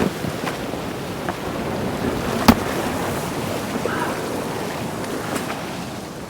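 A big wave washes up on a South Devon beach at Bee Sands during sea fishing, a broad steady rush of surf with wind buffeting the microphone and a few sharp knocks.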